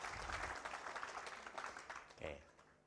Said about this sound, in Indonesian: Tepuk tangan dong untuk Abalab.